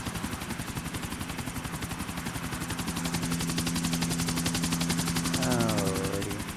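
A helicopter in Grand Theft Auto: Episodes From Liberty City gives a steady, fast rotor chop throughout, mixed with a low engine drone and game music, at a moderately loud, even level.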